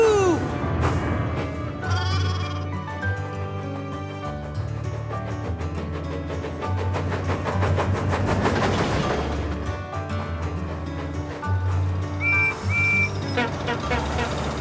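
Sheep bleating from a wagon in a Thomas & Friends cartoon, with short bleats rising over a busy orchestral score and sound effects throughout.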